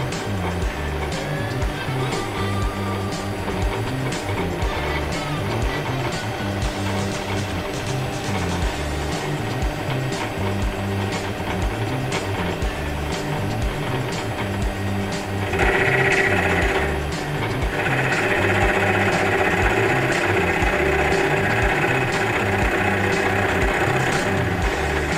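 A TU2506V metal lathe spins at about 900 RPM, giving a steady close mechanical whine and hum with a regular underlying rhythm, continuous throughout and slightly louder in the later part.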